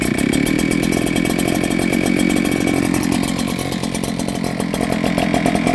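Loud, close, continuous two-stroke engine roar from an Echo 8010 backpack leaf blower running steadily at high throttle, harsh and buzzing without pause.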